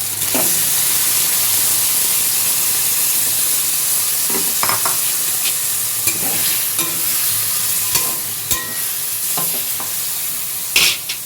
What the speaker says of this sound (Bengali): তো কষানো হয়ে গেলে আমি এখানে ম্যারিনেট করা ফুলকপিটি ছেড়ে দেবো